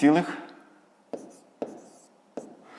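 A number is written down by hand, three crisp, evenly spaced pen taps close by after a short spoken phrase.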